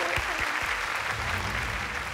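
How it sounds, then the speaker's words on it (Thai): A short burst of studio audience clapping on a Thai game show, dense and fairly close, ringing out steadily for about two seconds. "ขอเสียงปรบมือให้กับคุณแม่พี่เอกเราด้วย"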